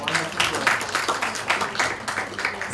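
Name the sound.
audience round of applause at closing ceremony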